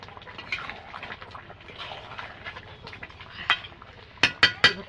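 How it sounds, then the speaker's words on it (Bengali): A metal spatula scrapes and taps against a pan of mutton curry, soft stirring giving way to a few sharp clinks toward the end. "এটা একটু খুন্তি দিয়ে গালিয়ে দেব"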